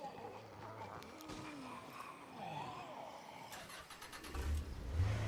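A video game car engine revs and shifts pitch, rising and falling through several short bursts, with a louder roar building toward the end, all fairly faint in the background.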